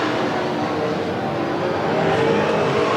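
Race cars roar continuously in a steady engine drone at Willamette Speedway in 1991 as they run side by side out of turn three, heard from a distance.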